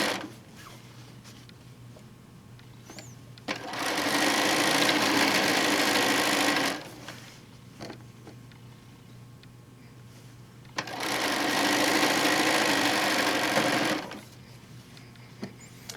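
A sewing machine stitches quilt pieces in two steady whirring runs of about three seconds each, separated by a quieter pause with light handling noises.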